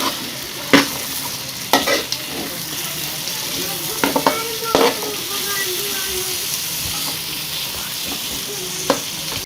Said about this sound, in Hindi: इसको हम लो फ्लेम पे 2 से 3 मिनट के लिए फ्राई करेंगे, इसी घी के अंदर भूनेंगे।